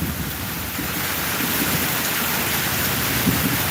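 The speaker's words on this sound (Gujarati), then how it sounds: "વીજળી પડી પડી પડી વીજળી પડી" Heavy rain pours steadily and loudly, a dense hiss with low rumbling underneath suggesting thunder; no voices.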